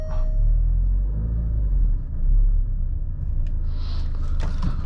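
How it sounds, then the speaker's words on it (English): Steady low rumble of tires rolling on pavement inside a moving 2023 Alfa Romeo Giulia Veloce, constant and fairly loud, mostly from the front end, with a faint higher hiss near the end. "I can definitely hear a significant amount of tire noise on the front end over here"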